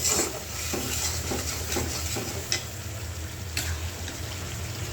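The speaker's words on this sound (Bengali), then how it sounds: "তো আমি মশলাটা দিয়ে দিলাম, মশলাটা এবার একটু কষায় নিই।" Spice paste with coriander, salt, green chili paste and dried red chili paste being sautéed and stirred in a pan, giving a steady close sizzle with a few soft scraping strokes throughout and no talk.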